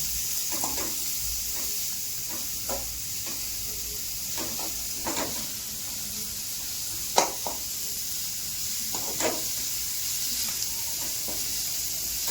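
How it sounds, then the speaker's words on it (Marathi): Onion frying in a pan, a continuous steady sizzle with scattered stirring clicks and scrapes, close and even, with no talking. "कांदा टाकून घेऊ आपण. कांदा परतून घेऊ."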